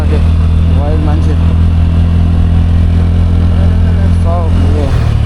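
Motorcycles on a busy Bhaktapur street keep up a continuous, close engine drone, with voices talking over the rumble throughout.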